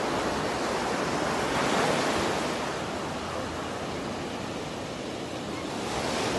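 Ocean surf rolls onto a beach on the Costa Rican coast, a dense, steady roar of breaking waves that swells slightly and then settles, mixed with some wind rumble on the microphone.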